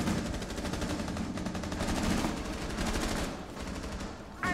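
Sustained rapid gunfire in a Rainbow Six Siege match on the Border map, with dense overlapping bursts continuing steadily and loudly throughout, broken only by a brief sharp sound at the very end.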